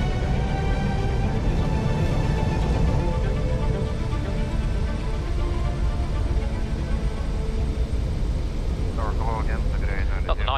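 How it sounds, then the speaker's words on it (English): An easyJet airliner of about 66 tons lands and brakes hard on an icy runway, a loud continuous roar of engines and rumble filling the scene throughout, with cockpit voices speaking over it. "stop 66 tons of plane before the icy runway runs out"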